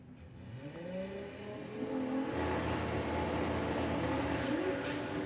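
Drag racing cars launch down the strip, engines rising in pitch as they accelerate away, then settling into a sustained roar heard from a distance, with no commentary over it.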